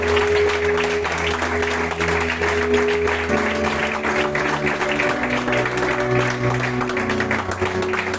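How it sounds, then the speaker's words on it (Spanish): A church congregation applauds in a dense, steady wash of clapping for the full stretch, with sustained musical tones running underneath. "Aplaude a Cristo"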